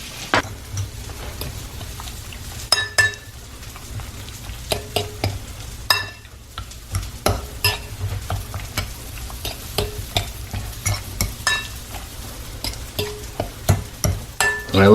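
Shrimp sautéing in sauce in a pan, a constant sizzle broken by frequent sharp scrapes and clacks of a utensil stirring, close and busy with no voices.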